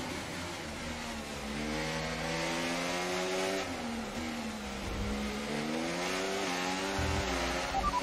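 An F1 race car in the F1 24 racing game at the Singapore round accelerates hard, its high engine note climbing steadily through the gears as a continuous loud whine, with no talk.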